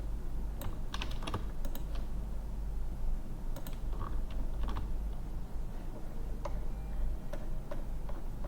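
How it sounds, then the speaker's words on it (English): Typing on a computer keyboard: irregular bursts of soft, close key clicks over a low steady background hum, with no voices. "or if we just type this one"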